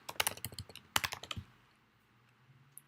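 Fingers type quickly on a computer keyboard, two short bursts of crisp, close key clicks, followed by near silence.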